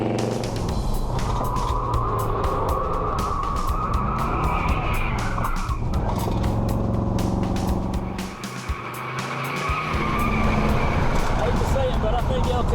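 A 1974 Ford F100 pickup spins off a race track into the grass, with a loud, continuous engine roar and tire noise that dips briefly, then surges back, while a voice talks over it.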